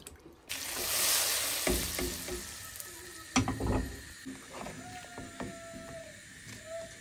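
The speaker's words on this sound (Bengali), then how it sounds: "মানে কাসকি মাছের পেঁয়াজ ফ্রাই করছে" Onions fry for kachki fish in a pan, hissing and sizzling steadily with occasional spatula scrapes and clatter, close but fairly quiet, with no talking.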